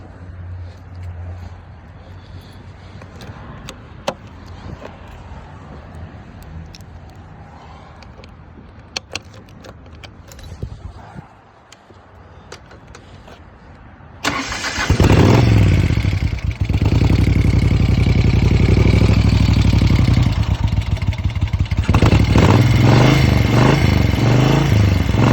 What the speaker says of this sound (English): we're going to do a cold start of a 73 Moto Guzzi Eldorado 850